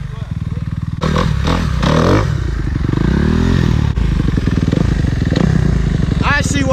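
Kawasaki KX250F four-stroke dirt bike engine revving loud and close, with bursts of rising and falling pitch and clattering mechanical noise, while people talk over it outdoors.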